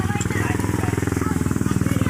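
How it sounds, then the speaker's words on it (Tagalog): A motorcycle engine runs with a fast, steady putter close by for a couple of seconds. "Oh, may motor."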